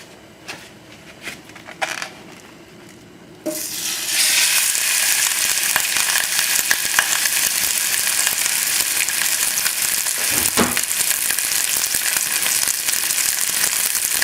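Lamb meat sizzles loudly in hot olive oil in a crock pot, starting with a few clicks and light handling noises before a sudden steady burst of frying hiss that continues unbroken to the end.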